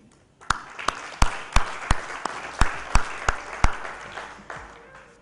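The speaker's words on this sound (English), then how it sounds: "put your hands together in welcoming Mr. Brian Fang, CEO, CGSC" An audience applauds as a CEO is welcomed on stage at a product launch presentation, about a dozen loud, evenly spaced claps ringing in a hall before fading.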